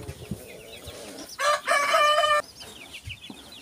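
A dark blue Brahma rooster crows once, loud and close, on a farm. Softer chicken clucks and calls come before and after the crow.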